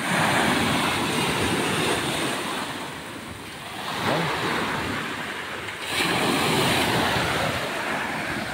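Seawater driven by monsoon weather surges and washes into backyards, with wind buffeting the microphone; the rush swells and eases in waves.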